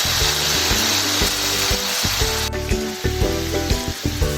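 A blended paste with yogurt fries loudly in a hot pan during kofta meatball curry cooking, a steady close sizzle with irregular scraping and stirring knocks, no talking.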